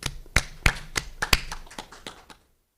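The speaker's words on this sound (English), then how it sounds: "let's welcome Mr. Doohyun Park with applause" A few hands clap in a sparse, uneven patter of sharp claps that thin out and stop, greeting a speaker at an online symposium session on smart aquaculture and food safety.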